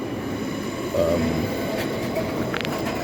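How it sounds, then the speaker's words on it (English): Trains at Victoria station in London, a steady rumble of rail traffic with faint wheel squeals and clatter, continuous and moderately loud, with no talking. "You look, there's some trains here."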